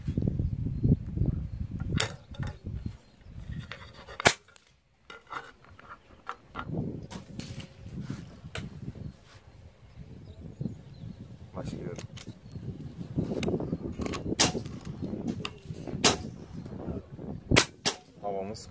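Sharp pneumatic cracks from a Hatsan Hercules .25 caliber PCP air rifle firing 33.95 grain JSB pellets over a chronograph, several separate shots spaced irregularly amid handling noise and some talk.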